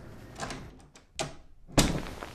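A door opening and closing: a couple of soft knocks and creaks, then a sharp louder thump as it shuts.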